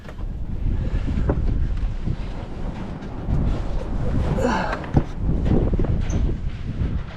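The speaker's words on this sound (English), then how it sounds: "Windy day." Steady wind gusts rush and buffet across the microphone at an abandoned farm, with a broad outdoor roar rising and falling throughout.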